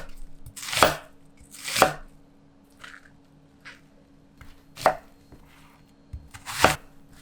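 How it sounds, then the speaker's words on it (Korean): Two or three onions cut with a knife on a board, five sharp separate chops spaced about a second apart, close and clear over a faint background hum. "양파 두세 개를 적당한 크기로 잘라요."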